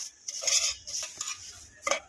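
Scraping stirs of a utensil against a pan as vermicelli is crushed and toasted golden for sheer khurma, a few quick strokes with light metallic clinks, close up and with no talking.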